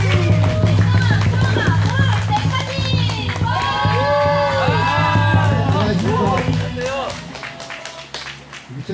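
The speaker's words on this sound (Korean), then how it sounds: "힘을 실어주는 박수 한번 부탁드립니다" A crowd claps steadily at an outdoor anti-THAAD Wednesday rally in Soseong-ri, Seongju, South Korea, with voices and shouts rising over the applause before it fades toward the end.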